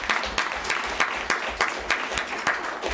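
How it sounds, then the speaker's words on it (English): Audience applause for panelists at a World Bank forum on conflict sensitivity, a steady wash of clapping from a seated room with regular louder individual claps popping through, moderately close. "let's just give a very big round of applause to our"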